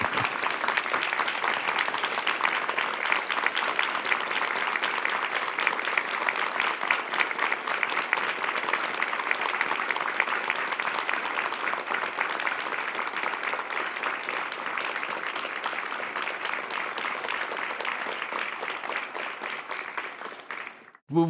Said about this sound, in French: Vous vous êtes bien applaudi vous-même.